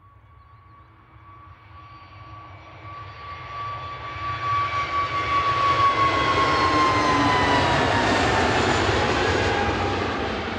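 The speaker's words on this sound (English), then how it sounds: "I love the spool up sound of the Neos" Neos airliner at Manchester Airport with its jet engines spooling up, a rising whine with a steady high tone that builds into a loud, broad roar over several seconds, heard from a distance outdoors.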